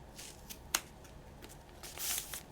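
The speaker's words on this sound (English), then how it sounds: "if you fold the tape back over itself 4 times, you can then just do one cut down the middle" Quiet snips of scissors cutting through kinesiology tape folded over itself four times, a few soft crisp cuts and a longer slicing rasp near the end, close and faint.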